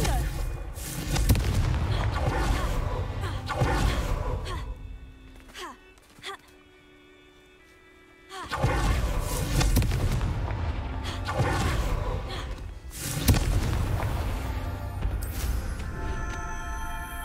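Confringo spell blasts in Hogwarts Legacy on PS5 sound as loud booming explosions over game noise. A quieter lull comes partway through, then the heavy rumbling bursts return.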